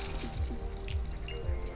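Water dripping and trickling from soaked gelatin sheets squeezed between the hands, a close, steady run of small wet drips and splashes with no talking.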